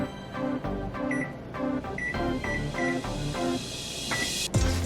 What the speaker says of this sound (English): I'm gonna set my timer.